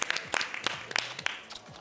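A studio audience on a live TV talk show gives a short burst of applause, heard as separate sharp claps scattered over a quiet background rather than a thick roar.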